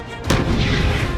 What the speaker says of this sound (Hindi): तोप से गोले दागे जा रहे हैं।